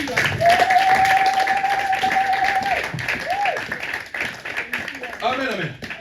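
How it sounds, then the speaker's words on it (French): A church congregation applauds and cheers the Lord during a Sunday service, with steady broadband clapping running throughout while a voice holds a long sustained cry and other voices call out over the applause. "On acclame encore le Seigneur."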